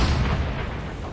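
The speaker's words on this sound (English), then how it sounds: "Shots are being exchanged." Heavy booming gunfire from tanks in a World of Tanks battle, including a T34 heavy tank, with a loud low blast at the start that rumbles and decays across the short stretch, no voices.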